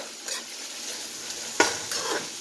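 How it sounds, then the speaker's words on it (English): Onions frying in a pan for fried spaghetti make a soft, steady sizzle, with a few sharp stirring scrapes and clinks from a utensil against the pan, and no voices. "let these onions fry down"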